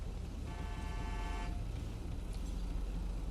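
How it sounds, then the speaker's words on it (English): In GTA 5, a car horn gives one steady honk lasting about a second, layered over constant engine and road rumble from nearby traffic, with no talking. "Are you literally honking at me because I'm in the way?"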